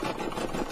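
An embroidery machine stitching a lamb key fob on a wobbly table, a steady close mechanical hum with a faint rhythmic pulsing and vibration.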